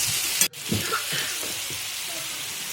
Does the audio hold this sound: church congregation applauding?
no